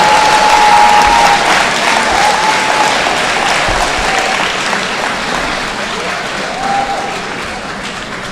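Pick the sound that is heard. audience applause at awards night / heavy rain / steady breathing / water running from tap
audience applause at awards night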